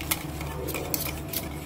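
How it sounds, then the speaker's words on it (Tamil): A spoon stirs a beaten egg and onion mixture in a bowl for an omelette, giving quick, light clinks and scrapes in an uneven rhythm, close and moderately quiet. "இப்போ அந்த வெங்காயத்தை போட்டு நல்லா கலக்கிக்கலாம்"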